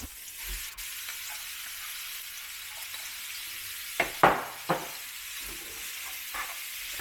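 Half a kilo of minced beef browns in a hot pan. A steady, close sizzle runs throughout, broken by a few sharp scraping stirs near the end, with no voices.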